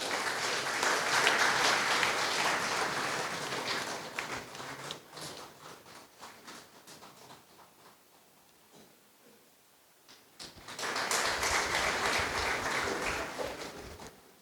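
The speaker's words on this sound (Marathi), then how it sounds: "स्वागतासाठी आपल्या टाळ्या अपुऱ्या पडू नयेत." Applause at a book launch ceremony welcoming a guest: a thick wave of clapping from the audience fades to scattered claps and quiet, then swells again just as loud.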